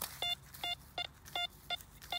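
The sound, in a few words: metal detector clicking on buried metal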